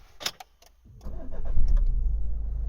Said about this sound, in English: The vehicle starts absolutely fine, no warning lights.